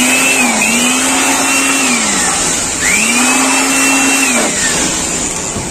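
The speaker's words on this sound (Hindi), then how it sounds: "मैंने वैक्यूम क्लीनर की मदद से दोबारा से इसे क्लीन कर दिया है" A vacuum cleaner sucks dust from around the RAM slots of a computer. Its loud motor drones continuously, and the pitch dips and rises twice as the nozzle moves and the airflow changes.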